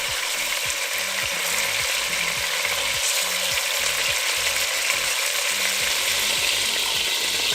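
Pork pieces fry for Filipino adobo in a pan, a steady dense sizzle running the whole time, with scraping and clacking of a utensil stirring and turning the meat.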